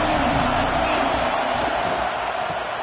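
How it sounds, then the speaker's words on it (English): Loud, dense stadium crowd roar at a Notre Dame vs Clemson college football game, a continuous wall of cheering and shouting that holds steady throughout without breaks. "This crowd bringing an ear-splitting welcome to their visitors."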